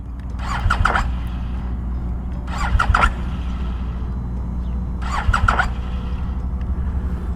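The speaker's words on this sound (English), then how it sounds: "my motorcycle doesn't even want to start" A BMW R1250 GS Adventure motorcycle engine cranks in three short bursts spaced a couple of seconds apart, never catching, over a steady low rumble.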